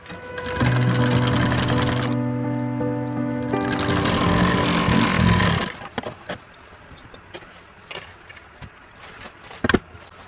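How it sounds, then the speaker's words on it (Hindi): A sewing machine stitching a lined designer blouse whirs steadily and loudly for about five and a half seconds, then stops, leaving faint clicks and handling noises. "इस तरीके से सिलाई लगाकर और फिर एक कच्ची सिलाई इस पे लगा लेनी।"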